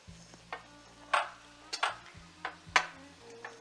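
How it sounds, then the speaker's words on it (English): Spoon scraping and stirring seasoned ground meat filling in a pan on a stove with the heat off, a series of sharp clinks and scrapes spaced a second or so apart, close and fairly quiet. "Give it a nice stir."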